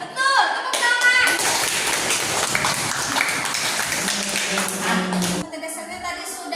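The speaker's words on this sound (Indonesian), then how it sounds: "Tepuk tangan." Students in a classroom clap together, a dense burst of quick hand claps for several seconds that ends abruptly, with children's voices mixed in.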